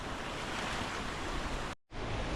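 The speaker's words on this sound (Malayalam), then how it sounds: "നല്ല വെള്ളമുണ്ട് ആ പുഴ നല്ല ഒഴുകി" A full river flowing strongly near Chinnar, heading toward a dam below, pours out as a steady broadband rush that stays loud and even, briefly cut by a dropout before resuming.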